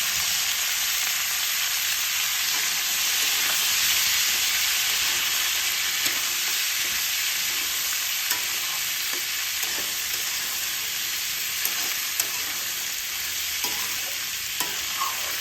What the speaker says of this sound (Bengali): পেঁপে, বিনস, গাজর আর কড়াইশুঁটি, এই সমস্ত কিছুগুলো আমরা ভেজে নেব